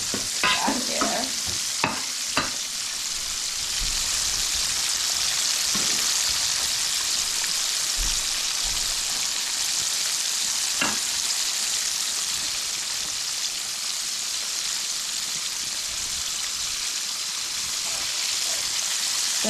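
Fish frying in a pan of hot oil, a steady loud sizzle and crackle lasting throughout, with a few clinks of a utensil early on and no talking.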